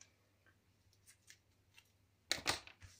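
Scissors snip through washi tape with a few soft, close cuts, then a louder, crisper snip near the end in an otherwise quiet room.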